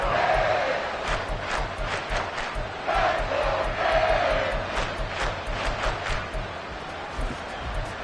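A simulated NFL stadium crowd in Madden 24 roars and cheers in swelling waves, with loud bursts around the middle and scattered shouts over a constant dense crowd bed.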